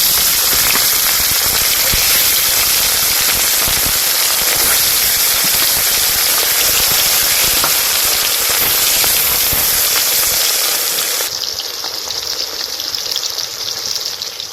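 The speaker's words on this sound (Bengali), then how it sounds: "তেল গরম হয়ে গেলে এবার একে একে মাছগুলো দিয়ে দেবো।" Loud, constant sizzling and crackling of fish frying in hot mustard oil, a dense hiss that eases slightly near the end.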